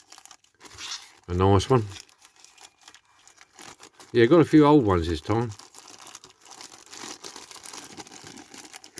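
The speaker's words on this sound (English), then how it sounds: "Excuse the rustling." Plastic packaging crinkles and rustles continuously while old toy diecast cars are unwrapped close up, with brief speech over it in two short spells.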